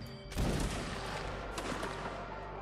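A musket volley fires on command in a multiplayer video game, one loud layered crack from many guns at once, followed by a rolling echo that fades over the next two seconds.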